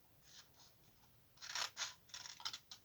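Scissors cut through paper or card for a scrapbooking basket project, a few quiet snips early on, then a louder run of crisp, rhythmic cuts close by with no talking.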